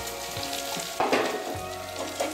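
Ivy gourd pieces fry in hot oil with a steady crackling sizzle, broken by a few louder bursts as the pieces are stirred in.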